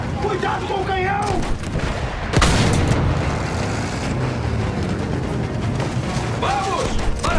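Heavy battlefield noise rolls through the Battlefield 1 video game, where a sharp, loud cannon-like blast cuts in partway through a dense, continuous roar of combat, and shouting voices come and go.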